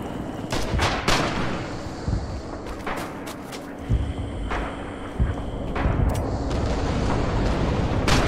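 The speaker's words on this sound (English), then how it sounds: "One of the most scariest things is artillery." Artillery fire in the WWII shooter Red Orchestra 2: heavy booms and crashing blasts at irregular intervals over a rumbling battlefield background, with some sharp nearer impacts and no talking.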